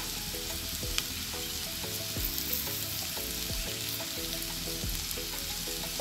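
Potatoes and pointed gourd fry in hot oil with ginger-garlic paste, giving a steady, close sizzle throughout with occasional scraping stirs and no talking.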